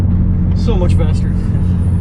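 A loud car engine rumbles steadily and close throughout, a deep continuous drone with a voice talking briefly over it.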